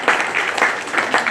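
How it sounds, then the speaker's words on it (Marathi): Applause from an audience at a poetry and song programme, a short burst of steady clapping with faint pulses, moderately loud and alone. "तर एकदा कॅप्टनसाठी जोरदार टाळ्या देऊया"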